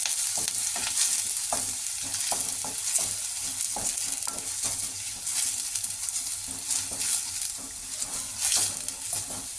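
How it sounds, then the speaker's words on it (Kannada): Onions fry in hot oil for chicken curry, a constant crackling sizzle broken by frequent spatula scrapes and taps in an uneven rhythm, close and fairly loud. "ಎಣ್ಣೆ ಕಾದಿದೆ, ಅದಕ್ಕೆ ಈರುಳ್ಳಿ ಹಾಕ್ಕೋತಾ ಇದ್ದೀನಿ. ಈರುಳ್ಳಿನ ಫ್ರೈ ಮಾಡ್ಕೊಳ್ಳೋಣ."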